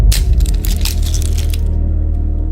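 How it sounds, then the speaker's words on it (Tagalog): An egg cracked and dropped into a glass of water, heard as a quick burst of crackling and clinking over a steady low hum, close and fairly loud, with no speech. "binasag ko nga ang itlog sa isang basong tubig"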